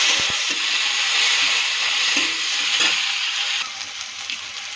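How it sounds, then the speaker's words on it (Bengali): Chopped tomato fries in hot oil in a pan with green chillies and whole spices, a loud steady sizzle that carries on alone for several seconds and eases slightly toward the end. "ছেড়ে দিলাম। একটু ভাজা ভাজা করবো।"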